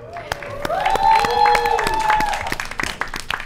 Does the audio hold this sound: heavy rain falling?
no